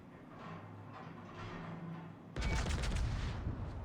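Warship guns fire in World of Warships, a dull rumbling backdrop that jumps into a loud, sustained blast of crackling, booming gunfire near the end.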